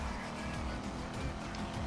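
Continuous, loud V8 car engine note in the Need for Speed racing game, a steady droning roar with small rises and falls of revs through the whole stretch.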